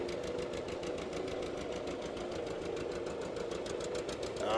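A 1959 John Deere 730 gas tractor with dual carburetion idles smoothly outdoors at a parade, a fairly faint, even, rapid putt-putt beat with steady rhythm.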